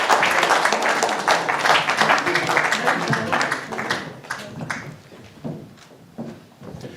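An audience at an art, poetry and music celebration gives loud, sustained applause that gradually thins into scattered claps as it fades.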